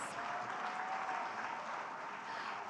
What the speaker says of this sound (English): please give yourselves a beautiful and a louder round of applause